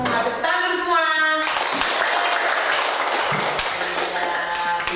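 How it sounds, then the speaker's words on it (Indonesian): A class of children claps together in a classroom; voices sound briefly first, then a loud burst of clapping fills the room, with some voices and tapping toward the end. "Tepuk tangan dulu semua."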